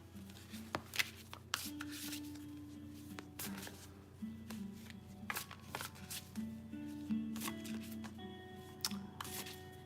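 Oracle cards are shuffled by hand in a quiet room, giving soft, irregular riffling and tapping bursts over a steady background hum with faint music.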